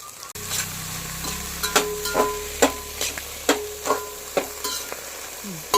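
Eggs fry in a pan for egg rice, a steady sizzle running underneath while a utensil repeatedly scrapes and taps the pan in a loose rhythm of sharp, close strikes.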